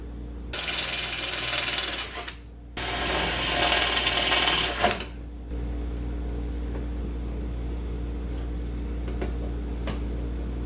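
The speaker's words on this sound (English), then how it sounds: "so we got to drill these out bigger, put a longer bit" Two bursts of a power drill whining at high speed, drilling holes in a car door, each lasting about two seconds with a short pause between, followed by a steady low hum.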